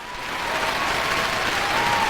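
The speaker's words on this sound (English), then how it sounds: "Yep, applause needed." Steady applause from an audience for a senator taking a bow, a dense even wash of clapping that swells slightly and holds at full strength throughout.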